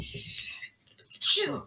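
A sharp sneeze erupts near the end, preceded by soft breathy sounds and a brief hush.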